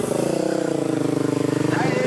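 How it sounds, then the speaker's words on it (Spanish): In Kenya, a motorcycle carrying three riders passes close by, its engine throbbing in a fast, even pulse that stays loud throughout, with voices talking over it. "Mira cómo van en la moto."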